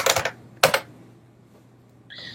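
Computer keyboard keys pressed while entering a command, heard as two short bursts of close clicking a moment apart, followed by a faint higher tone near the end.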